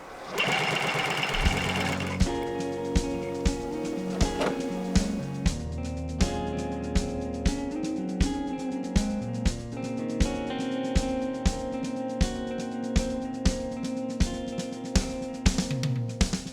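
Industrial sewing machine rooting nylon doll hair with three needles using a chain stitch, a fast, loud mechanical chatter with a steady repeating thump of the needle stroke, running continuously in a doll factory.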